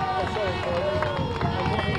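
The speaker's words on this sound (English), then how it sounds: "As you can hear, the fans absolutely ecstatic behind us." Speedway fans at a Premier League play-off final between Somerset Rebels and Edinburgh Monarchs cheer and roar in a dense, steady crowd din, with voices shouting close by.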